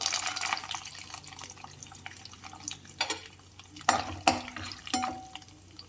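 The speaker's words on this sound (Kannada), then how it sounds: "ಎಣ್ಣೆ ಬಿಸಿ ಆಗಿದೆ, ಸ್ವಲ್ಪ ಸಾಸಿವೆ ಆ್ಯಡ್ ಮಾಡ್ತಾಯಿದ್ದೀನಿ." Mustard seeds, chana dal and peanuts sizzle in hot oil for a tempering, giving a soft, wet crackle with scattered sharp pops and a few louder bursts near the end, close by and without speech.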